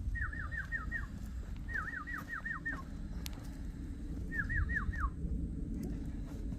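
Birds are heard on a walk outdoors, giving three bursts of quick, rapidly repeated chirping notes, each lasting under a second. The calls sit fairly near over a steady low rumble of background noise.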